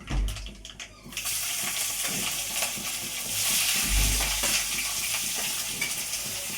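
Onions slide slowly into a hot pan of oil for curry, with continuous sizzling, frying and stirring clatter close by.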